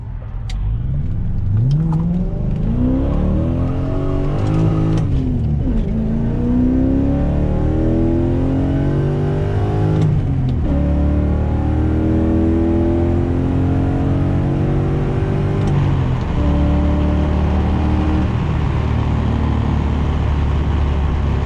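A BMW E34 sedan accelerating hard on a dirt road, its engine note climbing loudly and steadily in pitch through several gear pulls, close and continuous with no talking.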